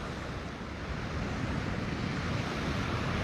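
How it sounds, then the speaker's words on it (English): Small, shallow ocean waves wash continuously onto Lanikai Beach on Oahu, Hawaii, at sunrise, a steady, close hiss of surf mixed with wind noise and no voices. "I love these little small, shallow waves."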